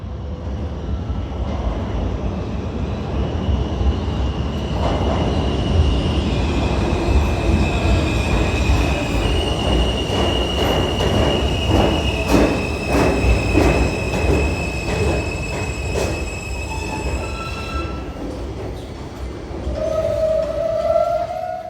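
A PATH commuter train rumbles along steadily at close range, wheels squealing and ringing over the rails, with clattering rhythm and rising whistle-like tones near the end.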